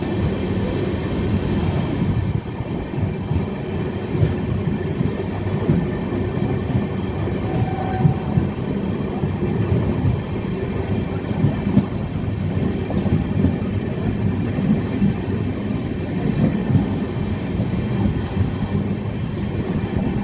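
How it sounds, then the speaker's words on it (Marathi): 11423 Pune–Shirdi Intercity Express rolling at speed, a steady, loud rail rumble with a constant wheel-and-carriage roar throughout and no voices. "आपली ट्रेन जी आहे ती हडपसर स्टेशन स्किप करणार आहे"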